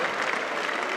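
A brief burst of thick crowd applause at a sports awards ceremony for the coaches, many hands clapping together in an unbroken, fairly loud wash.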